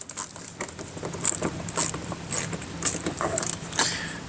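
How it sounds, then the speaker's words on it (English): A Phillips screwdriver turns an insert into the fender of a 2024+ Toyota Land Cruiser J250 during a mud flap install, giving close, irregular clicking and ratcheting ticks with light scraping between them. "Take our Phillips head drive, and we're just going to use inward pressure to help seat the insert as we're turning"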